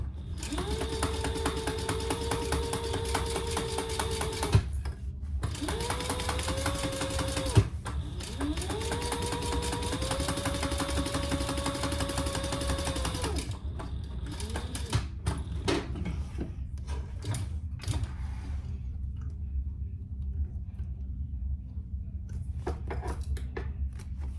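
A sewing machine top stitches the side pieces of a Horizon Sling bag, its motor whining in three steady runs of a few seconds each, separated by short pauses, then falling quiet.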